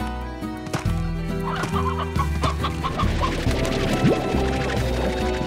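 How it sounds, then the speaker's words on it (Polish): A rooster clucks repeatedly over a busy Slime Rancher game soundtrack with steady music and other bird calls, the clucks close and distinct. "Jest drugi kogut."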